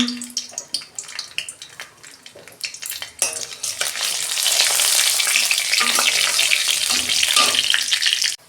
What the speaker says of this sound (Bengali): তেল দিচ্ছি কড়া, কালো জিরে দিচ্ছি,